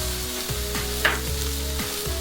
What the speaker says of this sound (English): saute it off for about 2 minutes, just till it starts softening.